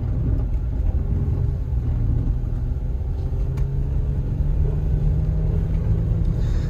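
A car on Michelin X-Ice snow tires accelerates over a snow-covered road, producing a steady low engine rumble and road roar from inside the cabin, continuous for several seconds with no talking.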